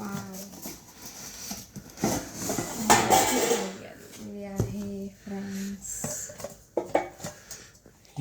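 A black metal kadhai with an embossed design clanks and rattles as it is unboxed and handled, with several sharp metallic knocks and scrapes. A person talks throughout.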